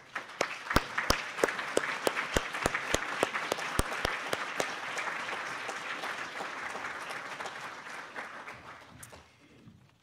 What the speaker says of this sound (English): we'll give you a round of applause too